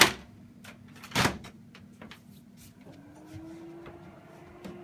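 Doors on an HP M551 LaserJet printer shut with a sharp plastic clack near the start and a louder bang about a second later, followed by a low printer hum and a faint rising whir.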